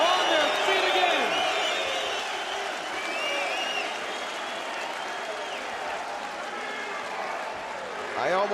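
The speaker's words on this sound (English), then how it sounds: "this crowd picks up the Freeman chant." Arena crowd at an MMA event after a fight is stopped, a dense sustained roar of cheering, applause and chanting that stays loud throughout and swells again at the end, with commentators talking over it.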